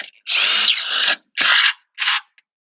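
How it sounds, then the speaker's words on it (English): A power drill drives a bolt into an aluminum stair tread in three close bursts: a long whirring run, then two shorter ones, loud and near with quiet gaps between. "Then we can take the bolt and drill it in."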